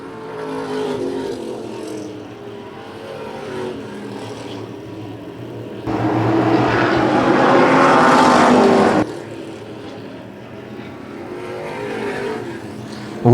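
Race cars roar past on a track in the closing laps of a race, the engine noise swelling into a loud, close pass in the middle before settling back to a steady drone of cars circling at a distance.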